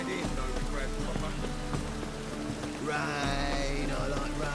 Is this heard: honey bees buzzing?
no